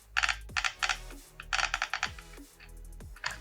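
Quick clicking and rattling ticks come in short bursts as the disc of a Procraft brushless angle grinder spins by hand, interspersed with faint low whirs, close and fairly quiet.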